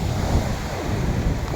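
Sea waves wash against the shore in a continuous, close roar mixed with wind buffeting the microphone, loud throughout the short stretch with no voices.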